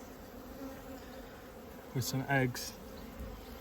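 Honeybees buzz steadily inside a hive around brood frames, a close, low continuous drone, with someone talking briefly over it partway through.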